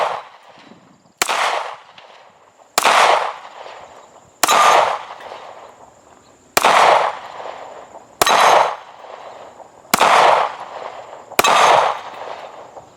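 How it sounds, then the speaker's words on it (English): Eight loud, sharp pistol shots fired one-handed in a steady rhythm about one and a half seconds apart, each a crisp crack with a brief ringing tail. "All right, one-handed shooting,"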